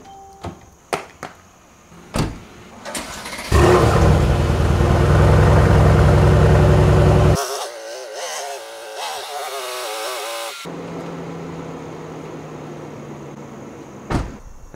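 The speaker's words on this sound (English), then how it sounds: "I'll pull the car out of the driveway and then I'll pull it back in nose first" A Mercedes car idles and drives out of a driveway and back in, the engine steady and close for several seconds after a few door-like thumps, then fading to a low hum.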